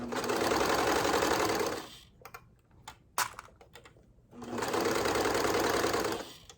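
A serger sewing machine stitches two pieces of fabric for skirted bummies in two loud, steady bursts of rapid whirring, with a quiet pause of small clicks and handling in between.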